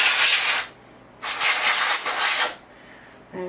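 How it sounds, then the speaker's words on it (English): Compressed air blasts out of a can to clear dust from inside a PC, two long loud hissing bursts separated by a pause, with a faint click at the end. "So that's all you have to do to clean out your PC, blow it out."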